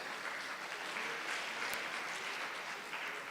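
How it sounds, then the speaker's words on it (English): Audience at a national health evaluation meeting in Nigeria gives a round of applause, a steady, moderately quiet wash of clapping lasting a few seconds in a conference room. "I think he deserves a better round of applause."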